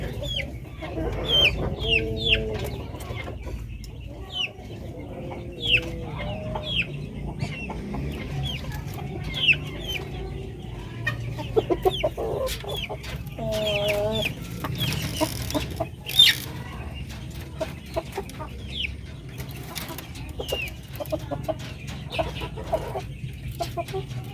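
A native rooster clucks and crows close by on a farm, with repeated short clucks and a few louder calls over a low steady background hum; someone talks quietly now and then.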